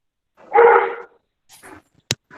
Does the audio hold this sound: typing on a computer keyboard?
no